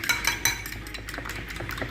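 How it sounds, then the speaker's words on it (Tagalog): A utensil beats eggs in a bowl, making rapid rhythmic clinks and taps against the bowl that repeat several times a second at close range, with no voices. "ang sunod natin gagawin is yung ating itlog. Haluin natin siyang mabuti."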